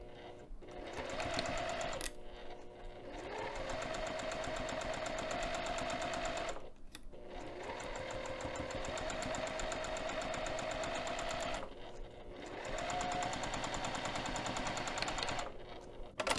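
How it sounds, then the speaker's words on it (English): A sewing machine stitches a pinned top fabric edge at a quarter-inch seam allowance in long steady runs of rapid mechanical whirring, broken by brief pauses between passes. "I'm going to stitch just this top pinned edge using 1/4 inch seam allowance"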